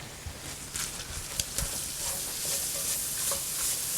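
Onions and roasted hatch chilies sauté in a pan with a soft, steady sizzle and a few scraping stir sounds. Cooking is close but fairly quiet, with no talking.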